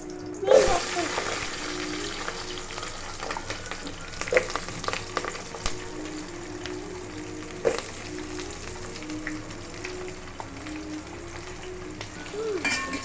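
Onions frying in a pan for mutton biryani give a steady broadband sizzle with occasional clinks and stirring scrapes, while people talk over it throughout.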